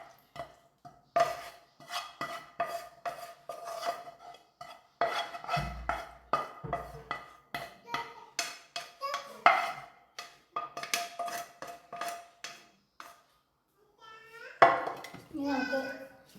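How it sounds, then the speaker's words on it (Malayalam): Chicken fried rice with vegetables being stirred in a pan, with repeated scraping and clinking of a utensil against metal in uneven bursts and short pauses between them. "ഇനി നമുക്ക് നന്നായി ഒന്ന് ഇളക്കിയെടുക്കാം."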